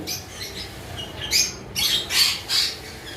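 Newly arrived conure parrots give several harsh, bright squawks in quick bursts, close and fairly loud, over a faint background hiss with no talking.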